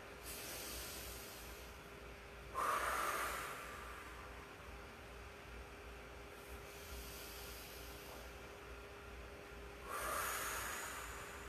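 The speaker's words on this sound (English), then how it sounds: "I'm breathing extra loud to cue you." Loud, deliberate breaths during a seated chair stretch flow, two strong airy inhales or exhales standing out near the start and near the end over a steady quiet background hum, close to the mic with no talking.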